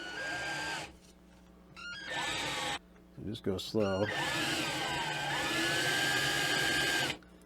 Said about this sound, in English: I'll have to drill another hole to get through the